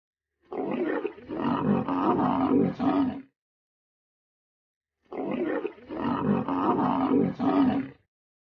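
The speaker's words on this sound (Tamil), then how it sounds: "தூங்கிட்டு இருந்த பெண் சிங்கத்தை அந்த ஆண் சிங்கம் எழுப்ப கடுப்பாகி எந்திரிச்ச பெண் சிங்கமோ கர்ஜனையோட ஆண் சிங்கத்தை ஒரு வழி பண்ணிடுச்சு" A lioness roars at a male lion in two separate bursts a few seconds apart, each a close, loud run of rough, throaty grunting roars.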